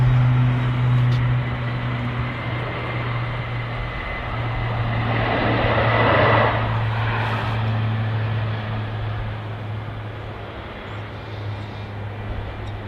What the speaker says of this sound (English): I've got something over the top. That sounds military, but it could just be an ATR or something quite low.